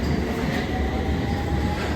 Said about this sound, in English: we've got a westbound train just leaving